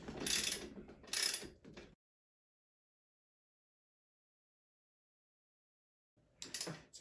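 Ratcheting wrench working the bolts on a Ninebot Max scooter's front Sharkset suspension, two bursts of rapid metallic clicking near the start, then a long silence before another short burst at the end.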